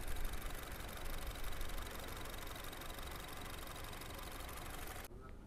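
A 2015 Honda Jazz RS with automatic transmission idles with its engine running smoothly, a steady close mechanical rumble and hum that continues evenly before dropping off near the end.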